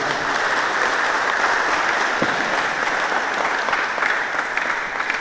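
An audience at a motivational talk on trading bursts into steady, dense applause, loud and sustained from start to finish with scattered claps standing out, no talk over it.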